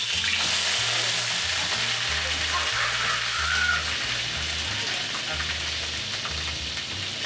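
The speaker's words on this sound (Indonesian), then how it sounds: "Kita lihat ya cara dia tumisin bawang gimana." Onions stir-fried in a pan at home, a steady dense sizzle and crackle filling the whole stretch with no talk.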